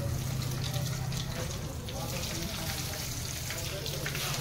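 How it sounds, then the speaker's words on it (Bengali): Potato chops frying in hot oil give a steady, close crackling sizzle, with a low hum running underneath. "এই চপগুলোকে আমি গরম তেলে ছাড়ছি"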